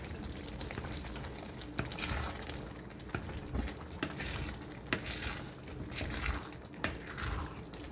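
Cooked homemade Hamburger Helper stirred in a pan on a switched-off stove, soft wet scraping and squelching strokes with a few sharper clinks of the utensil against the pan, close and fairly quiet.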